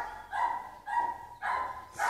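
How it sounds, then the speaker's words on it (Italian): A dog barks four times in an even rhythm, fairly close and clear, each bark a short tonal burst with brief quiet gaps between. "C'è un cane."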